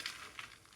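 Dry fruits crackling as they fry in ghee in a kadai, a soft, steady crackle with a couple of faint brighter pops, quiet and close over a brief moment.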